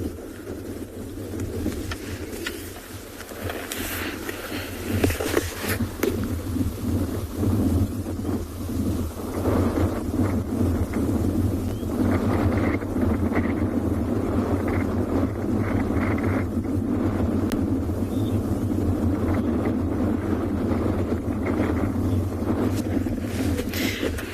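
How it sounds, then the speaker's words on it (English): Steady wind rushing across open savanna at sunset, a continuous broadband roar with low gusty rumbling that holds fairly loud throughout, with no clear voices. "I think that the wind is picking up"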